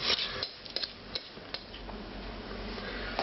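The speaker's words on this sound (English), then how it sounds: "stir this around just for a minute" Stirring a meatball mixture in a bowl, with scraping and light clinks of a utensil against the bowl, short irregular strokes at close range, no talking.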